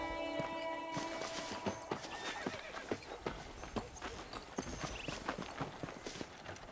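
Horse hooves clip-clop in a steady trotting rhythm in the video game Red Dead Redemption, close and distinct, with a brief whinny-like tone at the start.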